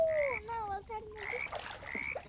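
Frog croaks from a Roblox-style survival game set at night in a forest with a lake, a few short croaking calls in sequence with game ambience, fairly close and moderately loud, no talk.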